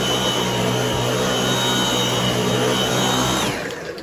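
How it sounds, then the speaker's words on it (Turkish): A loud, steady vacuum cleaner drone with a high whine runs close by, then begins to wind down near the end. "Süpürge de elimde."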